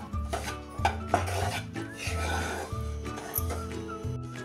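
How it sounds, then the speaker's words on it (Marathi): Jowar flour roasting in ghee in a pan on low flame, with repeated close metal scraping and clinking of a spoon against the pan in a rhythmic stirring pattern, no speech. "अजून 1 चमचाभर तूप आपण त्यात टाकून घेऊया आणि हे आता चांगलं खमंग असं भाजून घेते"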